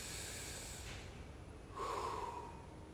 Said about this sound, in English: breathe in through the mouth deep